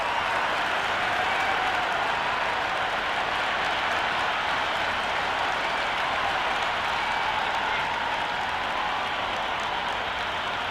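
A stadium crowd in the Cricket 26 video game at a Big Bash T20 match between Brisbane Heat and Perth Scorchers, cheering and applauding as a steady, dense roar with no breaks.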